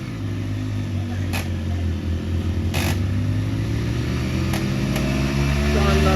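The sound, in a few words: Bullet motorcycles revving while one tows another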